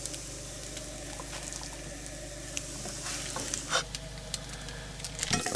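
Hash browns fry in a pan on a small stove inside a camper van, giving a soft, steady sizzle with occasional light crackles and clicks, quiet and close, with no talking.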